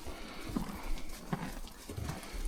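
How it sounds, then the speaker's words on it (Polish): A herd of horses moving around nearby outdoors, soft irregular hoof thuds and shuffling with faint snorts, fairly quiet and close, no clear talking. "jestem otoczony przez stado koni"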